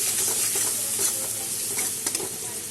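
Spices with turmeric, sugar and salt are sautéed in a pan, a steady close sizzle broken by a few scraping stirs of a spoon near the end, with no talking.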